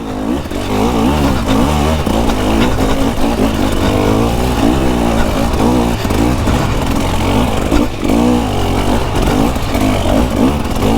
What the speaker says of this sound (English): Just listen to that engine purring along.